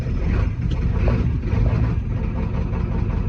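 A Ford 7.3 liter IDI diesel engine being started with the throttle held down. It gives a steady, loud, low rumble that stays close and constant throughout, with no voices.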